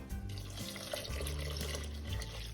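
A short, steady stream of mulled wine pours into a crockpot for a Christmas roast, giving a close, running liquid splash for a couple of seconds with no talking.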